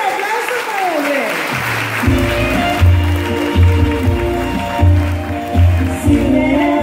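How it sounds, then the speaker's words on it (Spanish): Loud applause from a prayer group's congregation during a worship service, mixed with music that starts up partway through and keeps a steady rhythmic bass beneath the clapping. "¡Fuerte el aplauso para donde!"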